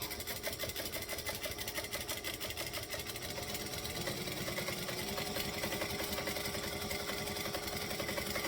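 A sewing machine runs steadily while top stitching a garment, a continuous fast mechanical whirring with rapid needle clatter at an even, moderate pace, close and alone with no voices.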